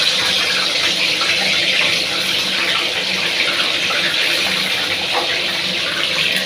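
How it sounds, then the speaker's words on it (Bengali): Potatoes and cauliflower frying in hot oil for khichuri, a steady close, loud broadband sizzle with a watery, rushing texture that holds evenly throughout, with no talk. "আলু আর ফুলকপিটা তেলে ভেজে নিই"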